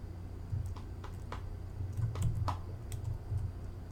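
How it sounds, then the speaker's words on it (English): Typing on a computer keyboard: quick, irregular clusters of light key taps over a quiet low hum, closely recorded with no talk. "Wow, you typed that in pretty quickly"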